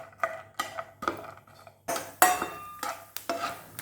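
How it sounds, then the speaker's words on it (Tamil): Cashews and almonds are stirred in hot ghee in a metal pan, with a spoon scraping and clinking against the pan in repeated close strokes and light sizzling between them. No one speaks. "கொஞ்சம் முந்திரியும் பாதாமும் எடுத்திருக்கேன். அதை போட்டு நல்லா ரோஸ்ட் பண்ணி எடுத்துக்கலாம்."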